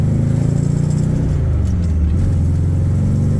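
Engine of a cammed 1977 Corvette with a 4-speed, heard from inside while driving, a loud steady low rumble with a lumpy pulsing idle-like lope that shifts in pitch as it pulls along.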